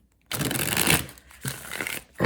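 A tarot deck being shuffled by hand, a close burst of riffling card rustle followed by a pause, then a second shorter flurry and a brief final ruffle.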